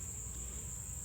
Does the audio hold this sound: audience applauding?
no